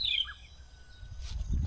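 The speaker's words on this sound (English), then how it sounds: "That's the call for the robin chat." Short whistled call of a robin chat in rural Kenya, a couple of clear descending notes at the start followed by fainter chirps over low background rumble.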